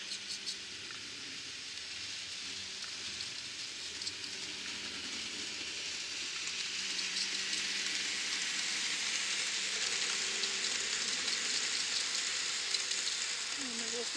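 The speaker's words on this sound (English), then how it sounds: "Train. Yeah, just scooting right along at a good clip." A small N-scale model train rumbles and clatters steadily along a track, with a high hiss that builds and settles, fairly faint and continuous.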